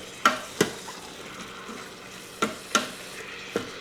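Seasoned ground beef, onions and jalapenos being stirred in an Instant Pot, several sharp scraping clacks of a spoon against the pot at irregular intervals over a faint low sizzle.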